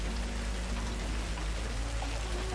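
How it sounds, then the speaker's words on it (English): Hail pelting a storm-chasing vehicle near a tornado, a dense steady patter of impacts on the body, continuous throughout, with engine rumble underneath and no talking. "Hitting the hail."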